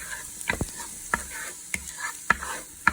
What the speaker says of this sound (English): I'm just going to cook this for maybe 3 to 5 minutes until the onion gets a little translucent.